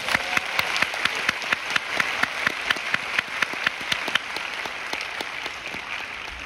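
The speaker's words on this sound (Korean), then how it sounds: "우리 두 강사님께 감사의 박수 드리겠습니다" An audience at a Korean church missions event claps along, sharp rhythmic claps standing out over a wash of applause that gradually loosens and thins.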